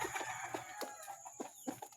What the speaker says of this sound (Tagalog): Medyo dumadami na yung alaga manok natin dito.